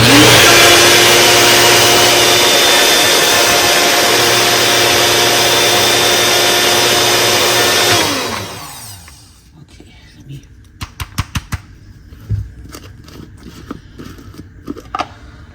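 A blender grinds pistachio nuts for a sugar-free pistachio latte, a loud steady whirring roar lasting about eight seconds before winding down, followed by quiet clicks and knocks of the jar being handled.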